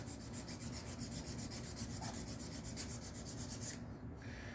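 A belt sander smooths the hacksaw-cut edge of a P90 magazine being converted, producing a close, steady abrasive rubbing with a regular pulsing rhythm that eases off just before the end, with no voices.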